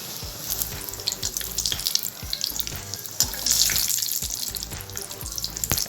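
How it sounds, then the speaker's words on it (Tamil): Mutton kofta balls fry in oil, sizzling and crackling steadily, a dense bubbling hiss with occasional sharper pops throughout. "வேக வச்சுருந்த கோஃப்தா பாலை இப்போ எப்படி பொரிச்சு காட்ட போகிறேன்"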